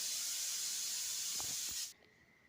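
A pressure cooker on a stove releases steam in a loud, continuous high hiss for about two seconds before it cuts off abruptly, leaving a quieter background.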